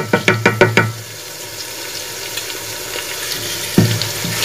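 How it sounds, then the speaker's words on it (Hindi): Garlic frying in oil for a chicken and potato shorba, a steady soft sizzle heard up close after a quick run of sharp knocks at the start, with one more knock near the end and no talking. "2-3 मिनट के लिए अच्छी तरह लहसुन को भूनूंगी"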